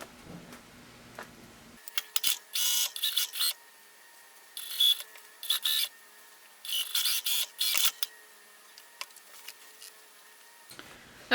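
Home sewing machine running a quick straight-stitch pass along a dress bodice seam, in several bursts of fast mechanical whirring and ticking with short pauses between, close and clear, no talk.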